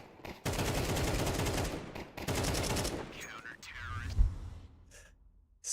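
AK rifle fire in a Counter-Strike match, two long rapid bursts of loud automatic gunshots in sequence, followed by quieter game sounds and a low thump.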